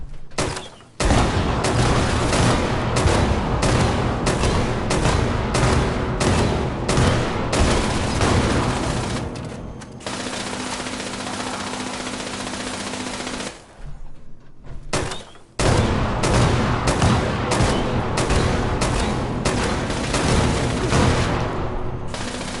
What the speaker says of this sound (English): we're gonna let its little laser gun rage and carry on for a bit